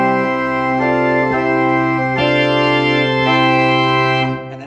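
A tracker pipe organ in a Lutheran church plays full organ in a broad hymn style, loud sustained chords shifting every second or so, rich and dense across the range, with no voices.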